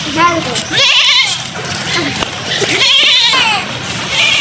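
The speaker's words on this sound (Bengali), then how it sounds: "আপনাদের কোন ছাগলটা পছন্দ হয়েছে?" Goats bleat repeatedly and loudly at a livestock market where animals are sold for Qurbani, with several wavering calls close by and people talking over and between them.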